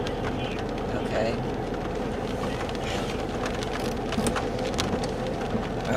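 Steady rain pours during a tornado-watch thunderstorm in northwest Oklahoma, a dense broadband hiss that continues throughout with scattered louder drops, while people talk in the foreground.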